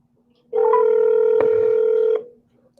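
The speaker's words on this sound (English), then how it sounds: "I'm gonna put this phone number in my phone" A telephone keypad tone sounds as a phone number is entered into a handset, a single loud, steady beep holding for about a second and a half, then cutting off into quiet.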